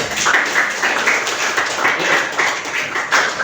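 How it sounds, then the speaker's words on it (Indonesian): Scattered clapping from a classroom of students for a presenting group during an Islamic religious education teaching practice lesson, steady and moderately loud, with some voices mixed in. "Tepuk tangan terlebih dahulu."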